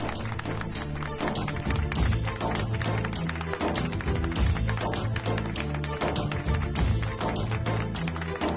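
People clap in steady rhythm at a birthday celebration just after a happy birthday song, loud continuous claps filling the room with some voices mixed in.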